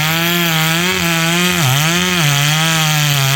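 Stihl chainsaw cutting into a big oak tree for firewood, a loud, steady, close engine whine that dips briefly in pitch midway as it bogs under load, then recovers.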